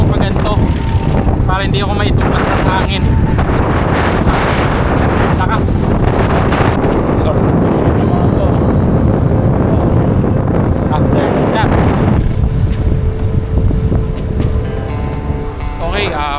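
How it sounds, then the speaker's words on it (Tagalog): Strong wind roars steadily across the microphone during a long-distance bike ride on the London-Edinburgh-London route in the UK, loud and constant with a slight easing near the end. "Grabe hangin dito."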